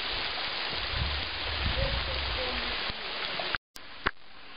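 Waterfall and the Dniester river flowing below a high cliff: a steady, broad wash of rushing water held close and loud for most of the stretch, cutting out abruptly near the end with a brief gap and a knock.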